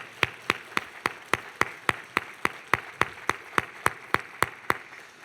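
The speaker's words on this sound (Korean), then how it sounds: "한번 여러분 뜨거운 박수" Clapping at a church service comes as a crisp, evenly spaced beat, with each clap landing about four times a second in unison. The sharp claps stand out against a quiet background and no one speaks.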